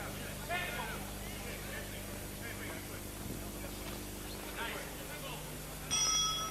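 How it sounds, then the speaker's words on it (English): A boxing ring bell sounds to end the second round of a professional bout, a short bright ding near the end, heard over steady crowd noise and commentary. "Bell ends the second"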